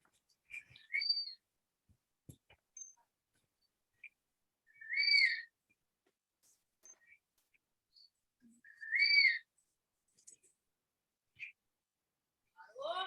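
Recorded hawk calls play back outdoors to condition jacutinga birds, with two clear, high whistled cries several seconds apart and faint scattered chirps in between.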